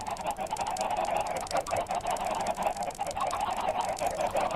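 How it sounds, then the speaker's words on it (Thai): A crowd of Minecraft chickens squawks and honks continuously in a loud, busy jumble, with no pauses. "ไก่กระจายหมดเลยอ่ะ โอ้โหไก่ ไก่กระจาย"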